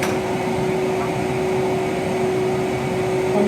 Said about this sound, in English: I'm going to flick the extractor on,